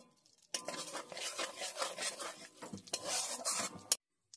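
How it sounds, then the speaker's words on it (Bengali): Bay leaves, dried red chillies and cumin seeds hit hot mustard oil in a kadai for a Bengali pumpkin, pointed gourd and prawn chhakka, giving a sudden burst of loud crackling sizzle with stirring scrapes before cutting off. "তেলটা গরম হয়ে গেলে দুটো তেজপাতা, দুটো শুকনো লঙ্কা আর জিরে ফোড়ন দিয়ে দেব।"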